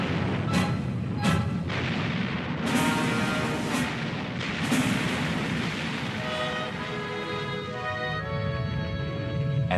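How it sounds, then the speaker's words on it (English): Heavy naval gunfire from Iowa-class battleship guns during shore bombardment: several loud, booming blasts early on, then a continuous rumble with a droning tone over it, close and dense, with no voices. "she serves with distinction in shore bombardment missions"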